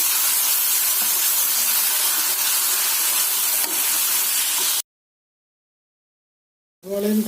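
Loud, bright hissing sizzle of chopped onions and tomatoes sautéing in a pan for cauliflower curry, steady for several seconds before cutting to silence, then a brief burst of sound resumes.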